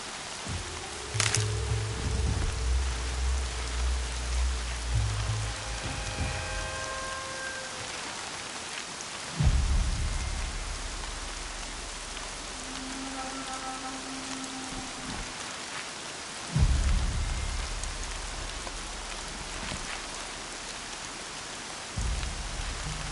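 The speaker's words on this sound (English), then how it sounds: "More rain. My boots will get damp." Steady rainfall pattering on surfaces in the game Horizon Zero Dawn, with a few low rumbles and thuds that could be distant thunder, heard alone without talk.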